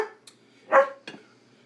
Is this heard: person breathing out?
no